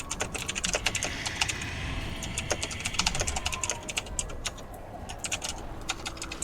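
Rapid clicking keystrokes on a computer keyboard carry on continuously and close, with a soft background hum and no voices.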